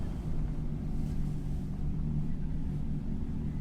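A 2019 Ram Rebel pickup crawls uphill on snow at a steady 5 mph, its engine a constant low rumble with wind buffeting the microphone, steady and close with no talking.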